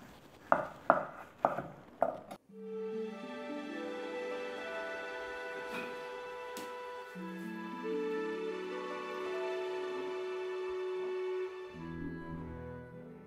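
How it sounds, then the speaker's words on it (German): Knife slicing through a pot-braised beef roast: three or four firm, close cutting thuds in quick succession, then the slicing gives way to steady music. "Dann geht es auch gleich an den Braten, den können wir nämlich auch schon aufschneiden."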